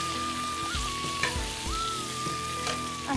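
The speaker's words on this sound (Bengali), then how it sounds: "আস্তে আস্তে ফ্রাই হচ্ছে।" Mutton and potato pieces fry in a pan with a steady, close sizzle, and a few soft knocks sound as the pieces are moved about.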